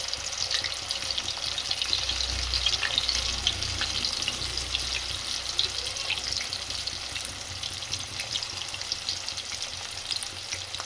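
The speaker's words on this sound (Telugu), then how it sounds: "మంచిగా అటు ఇటు తిప్పి కాల్చుకోవాలన్నమాట. మీడియం ఫ్లేమ్లోనే కాల్చుకోవాలి" Chicken fries on a medium flame in a pan of hot oil, giving a steady, close, even sizzle with faint crackles and no voices.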